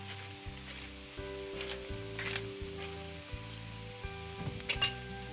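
Vegetables sauté in a hot pan with salt and black pepper, a steady close sizzle and crackle running throughout with occasional louder pops and stirring scrapes.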